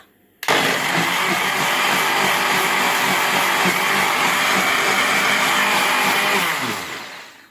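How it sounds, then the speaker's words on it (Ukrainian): A blender filled with water, powered by a repaired MUST PRO 5.2kW inverter, switches on abruptly and whirs loudly and steadily for about six seconds before spinning down as it is shut off. "навантаженням у нас буде блендер з водою"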